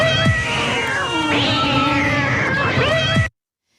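Cats in a fight yowl and meow loudly in long, wavering, rising-and-falling caterwauls, continuous for about three seconds before cutting off abruptly into silence.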